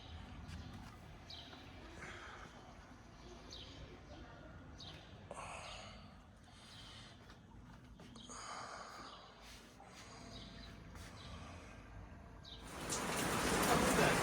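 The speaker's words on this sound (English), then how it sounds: "Bloody Turkey, I'm away and it's raining." Rain falls steadily as a soft, continuous hiss on a cloudy day in Turkey, heard close with occasional breathy sounds, and it swells into a louder, heavier wash near the end.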